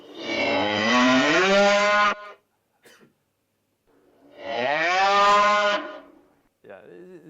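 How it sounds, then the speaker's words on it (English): Two long, loud cow moos, produced by a sound generator and separated by a short pause, each with a rising pitch, followed by a brief rough grunt at the end. "This one is the cow mooing at the two different"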